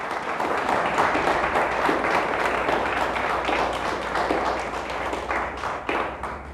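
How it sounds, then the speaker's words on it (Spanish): A church congregation applauds loudly and steadily, dense clapping filling the room for several seconds with a faint voice underneath. "Dele fuerte el aplauso al Señor, déselo fuerte"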